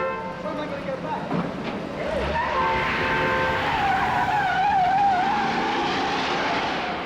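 Tires skid and squeal through a dangerous movie car chase, engines roaring and a long wavering screech rising over steady loud traffic noise, with a voice speaking briefly near the start.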